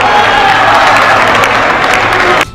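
A crowd applauds loudly and continuously after a French official announces a suspension of flights between Brazil and France, the clapping cutting off abruptly near the end.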